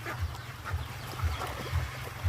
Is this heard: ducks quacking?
yes